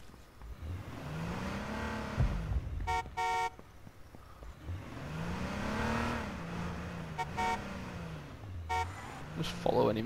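In the H1Z1 battle royale video game, a car horn toots in short, repeated bursts over the steady rising and falling hum of a driving engine, close and clear.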